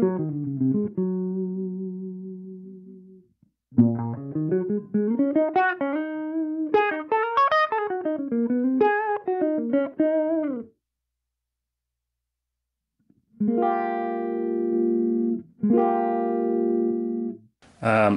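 Electric guitar through a boost effect on a Line 6 Helix, set up for a neo-soul jazzy lead tone: sustained single notes and sliding melodic runs, then a gap of silence before held chords return, clear and fairly loud with no talking.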